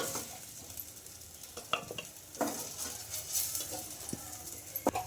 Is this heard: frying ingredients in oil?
yes